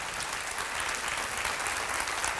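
A church congregation claps in a dense, continuous burst of applause that holds steady throughout, sounding broad and slightly distant, with no voices.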